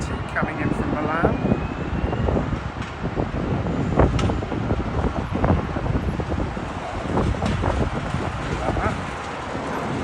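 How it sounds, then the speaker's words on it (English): A British Airways Airbus A320 landing at London Heathrow after a flight from Milan makes a loud, broad engine roar, mixed with gusty wind buffeting the microphone throughout. "British Airways Airbus A320 coming in from Milan"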